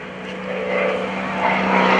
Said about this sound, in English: And now Gary Ward is going to come in from the left, diving down, picking up a little bit of airspeed.